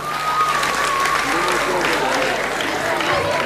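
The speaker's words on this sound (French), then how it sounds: "Est-ce qu'on peut applaudir?" Audience applause in a school gym as a basketball player steps up to take shots during a college event in Yaoundé, a steady dense clapping that runs through the whole stretch with a faint whistle tone above it.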